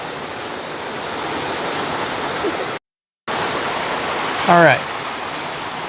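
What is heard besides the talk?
Happy Creek Falls waterfall rushing in North Cascades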